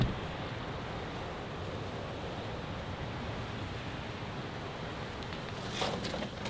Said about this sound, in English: That's coastal, rainy, windy.